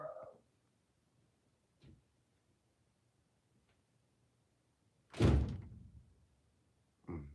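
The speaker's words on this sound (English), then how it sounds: "somebody just slammed the door" A door slams shut indoors with a single loud, sharp impact followed by a short decaying rumble, set against an otherwise quiet room with a couple of faint knocks before it and another thump just after.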